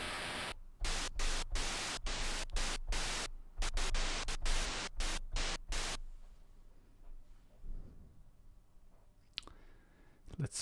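Noise channel of the Magical8bitplug2 chiptune synth plugin plays loud, hissing bursts of static in a choppy rhythm for about six seconds, then stops and leaves faint background hum with a few stray clicks.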